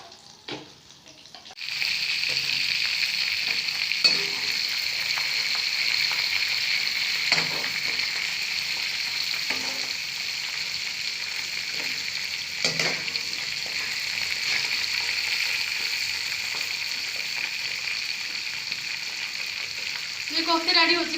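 Chana dal koftas fry in hot oil in a pan with a steady, loud hiss and sizzle that runs throughout, broken by a few soft clinks and stirs.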